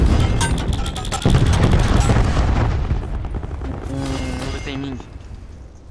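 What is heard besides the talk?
cluster grenade explosions and gunfire in Call of Duty: Black Ops 4 video game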